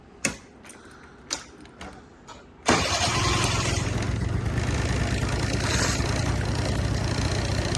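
Honda Dio AF34 scooter with a carburettor, a few separate kick or crank clicks, then the small engine catches and settles into a steady buzzing idle close by.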